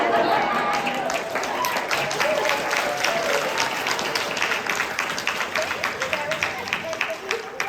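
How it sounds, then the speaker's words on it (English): Theater audience at a live improv stage play clapping, a loud, dense crowd applause filling the room and continuing steadily with some cheering or voices mixed in, fading slightly toward the end. "So please show Jamie some pity by applauding and laughing as loud"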